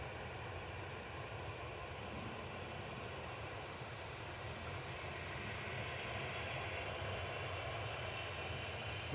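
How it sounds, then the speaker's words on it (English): A KLM Boeing 777 airliner passes over Manchester Airport, heard as a faint, steady, distant jet rumble that holds evenly throughout with no talk. "KLM 777 just gone over us."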